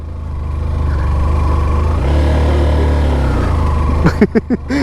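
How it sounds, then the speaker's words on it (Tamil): A motorcycle engine drones loudly and steadily, swelling slightly, followed by a few brief vocal sounds near the end. "ஐயோ பைக் இழுக்குது இல்லை"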